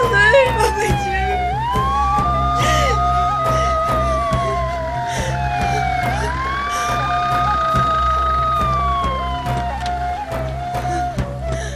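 A wailing ambulance siren rises and falls steadily and loudly, its sweeping tone continuing under background noise and occasional voices.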